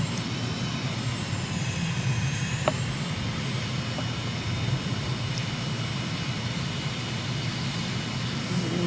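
A fixed-wing aircraft engine powers up for landing approach in Microsoft Flight Simulator near Srinagar, Kashmir, a steady, loud, continuous drone with faint high whine tones and no talking.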